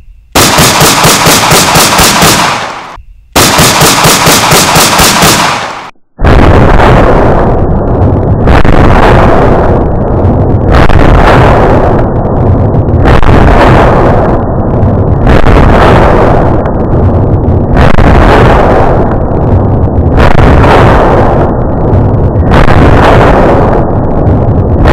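A 9mm pistol firing Gorilla Silverback 115-grain rounds at a target outdoors: about eight loud, sharp shots spaced evenly roughly every two seconds, each with a ringing tail, after a couple of long, sustained blasts at the start.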